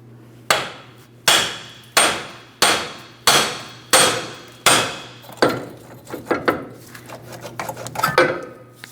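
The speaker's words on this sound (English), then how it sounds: "A few light taps with a hammer." A hammer taps a steering knuckle free on a Ford Transit-250 van, about eight sharp, evenly spaced metallic strikes close by, followed by a quicker cluster of lighter knocks and clatter.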